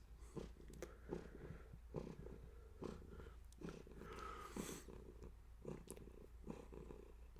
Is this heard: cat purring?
yes